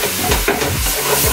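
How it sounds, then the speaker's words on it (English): Turkey mince browning in a pan, with soft sizzling and the scrape of a utensil stirring it in short repeated strokes, close and alone. "Now what we're doing here is we just really wanna brown the meat and get it nice and colored"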